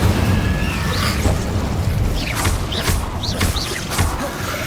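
Magic combat in the video game Hogwarts Legacy, with the Incendio fire spell cast amid a steady loud roar of rumbling booms and bursts, broken by several whooshing swells in quick succession.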